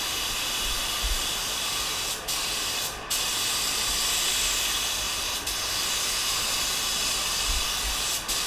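Urachem paint sealer sprayed onto a Toyota Tundra during a full paint job, a loud, continuous airy spray-gun hiss with a few brief breaks in the flow.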